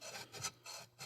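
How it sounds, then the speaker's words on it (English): A sanding beam rasps along the edges of newly installed guitar fret wire in several short, close strokes, each a dry bright scrape separated by brief pauses. "I'll take this sanding beam after I get them close and just touch the edges"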